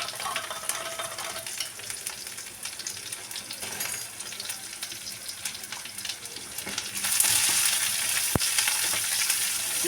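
Food fries in a pan on the stove with a steady close sizzle and occasional stirring scrapes, the sizzling growing brighter and louder toward the end.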